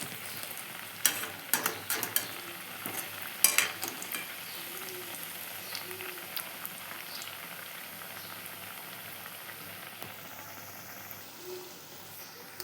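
A bread sandwich fries on a pan, a soft, even sizzle with a burst of crisp crackles and taps early on as it is turned, then a quieter steady hiss, close and without talk.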